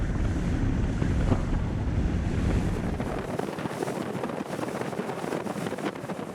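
A Joker Boat Clubman 24 dinghy runs at 25 knots with its engine at 3,700 revolutions, a loud steady roar of hull rush, spray and wind buffeting close to the microphone.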